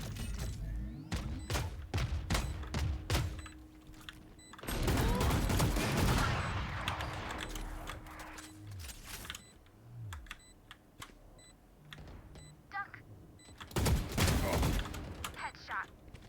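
Gunfire and missile launches in a Valorant-style shooter game, with rapid sharp shots in bursts, two heavier sustained barrages and scattered single cracks, plus the clatter of keyboard keys throughout.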